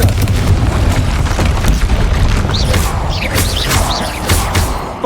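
A Confringo spell explodes in the game Hogwarts Legacy amid heavy combat, dense booming blasts and crashes rumbling continuously at high volume, with whooshing magical effects layered over the top.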